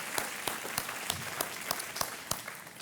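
A studio audience on the Hindi game show Kaun Banega Crorepati claps in a steady patter, with sharp individual claps standing out at regular intervals over a continuous bed of applause.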